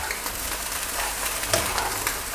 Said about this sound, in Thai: ผัดให้กะหล่ำสลดก่อนครับ